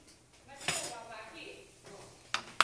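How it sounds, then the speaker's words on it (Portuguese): Metal kitchen utensils clink and rattle as someone rummages for a spoon, with a few sharp chinks close by and a person speaking over them. "Deixa eu pegar uma colher."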